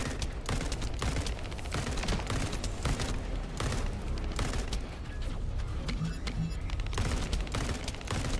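Burst-fire rifle shots in The First Descendant, sharp rapid clusters of gunfire repeating every fraction of a second amid booming game effects, loud and sustained across the whole stretch.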